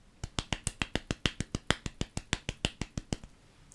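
A short burst of hand clapping, around fifteen quick even claps from one person, close and crisp, with no talking.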